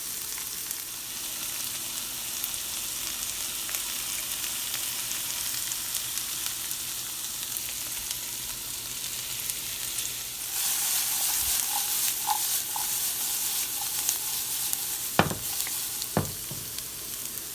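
Onion and garlic cooking in a pan give off a continuous close sizzle and hiss, with a few clinks and scrapes of utensils near the end.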